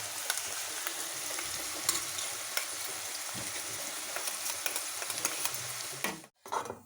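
A paste of ginger, green chili and coconut fries loudly in a pan for a dondakaya (ivy gourd) curry, a dense continuous sizzle with scattered crackles and stirring scrapes, cutting off abruptly near the end.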